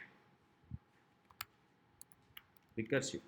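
Code being typed on a computer keyboard, heard as sparse, faint individual key clicks spaced apart, ending with a short cluster of taps and a brief voice.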